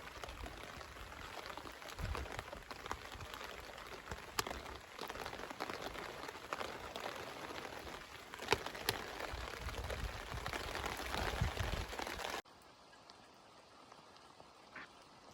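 Rain pattering densely on the metal sheeting covering a charcoal kiln, a steady close drumming with scattered louder drops that cuts off abruptly to quiet near the end.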